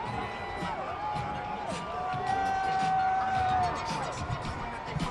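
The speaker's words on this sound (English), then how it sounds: "Crowd is still shouting, MVP, MVP." A dense parade crowd celebrating the Dodgers in downtown Los Angeles roars and shouts steadily, with individual voices and a whistle-like tone rising above the continuous cheering.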